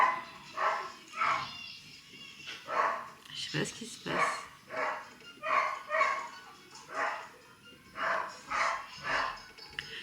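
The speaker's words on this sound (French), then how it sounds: "On a un petit chien qui est pas content." A small dog barks repeatedly in a steady, rhythmic series of yaps in Mauritius, while a person talks briefly amid the barking.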